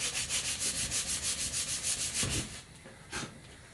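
A wood chisel rubs back and forth across a wooden surface in a steady rhythmic scraping, about a dozen even strokes, then slows to two or three separate passes, close and clear with no talking.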